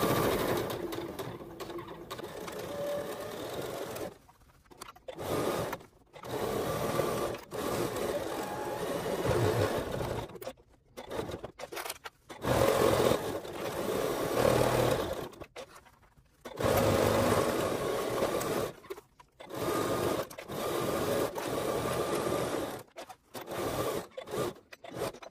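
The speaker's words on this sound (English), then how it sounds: "that's all there is to stitching around this bag" A sewing machine stitches around the edge of a fabric clutch bag in stop-start runs, its quick mechanical whir breaking off for short pauses at the corners and then resuming.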